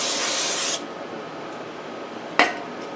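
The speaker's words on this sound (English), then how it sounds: "I would suggest getting some brake clean. Kind of clean it up in there." Brake cleaner sprayed from an aerosol can onto the rear hub of a 2007 Honda Accord gives a loud, steady close hiss for under a second, then a quiet pause and one sharp metallic clink.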